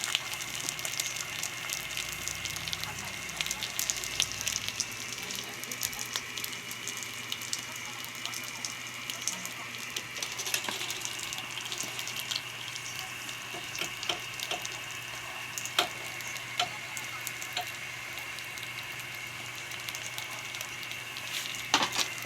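Steady crackling sizzle of food, chicken intestines, frying in hot oil over a strong fire, loud and continuous throughout, with occasional sharper pops and clatter.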